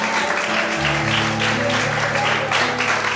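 A church congregation claps during an evening sermon. Dense applause fills the room over a low sustained musical tone, and voices run underneath.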